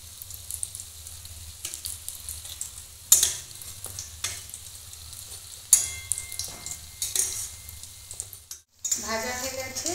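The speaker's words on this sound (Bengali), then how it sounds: "সিঙ্গাড়াগুলো প্রায় ভাজা হয়ে এসেছে, আর অল্প একটু ভাজবো।" Singaras deep-fry in oil over low heat with a steady, close sizzle, broken by occasional clinks and stirring scrapes, and a brief faint voice near the end.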